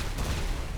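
A video game explosion rumbles as a brief, loud, dense blast with a heavy low-end roar.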